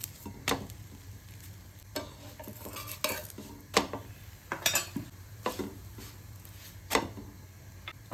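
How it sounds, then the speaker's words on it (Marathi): Potato paratha roasting on a hot tawa, with a low background sizzle broken by scattered clinks and scrapes as it is flipped and pressed at an uneven pace. "याला पलटी करून करून शेकून घ्यायचं आहे, म्हणजे दोन्ही साईडून।"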